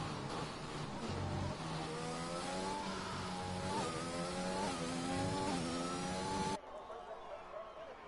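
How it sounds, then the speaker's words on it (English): An Aston Martin race car engine on a hot lap at Silverstone in a racing video game, revving loudly and rising through gears with steady harmonic climbs, ending abruptly into quieter engine drone; a commentator talks over it. "Soy Loco just about to start his next hot lap here in the Aston Martin."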